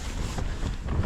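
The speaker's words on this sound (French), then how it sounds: "Il y a du vent de fou." Strong wind on a trip through Argentina buffets the microphone, a dense, loud, continuous roar with gusty surges and no voices over it.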